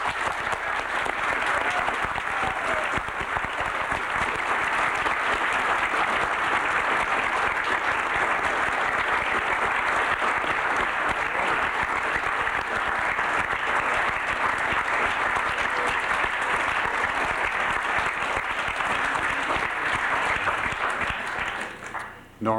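Lecture audience at Harvard breaks into loud, sustained applause, a dense steady wash of clapping lasting over twenty seconds before cutting off abruptly.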